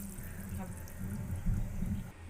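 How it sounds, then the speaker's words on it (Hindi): Boiled macaroni tipped into a vessel of cold water in a home kitchen, a soft, steady wash of splashing and running water at moderate volume. "अब इसको मैंने ठंडे पानी में डालना है।"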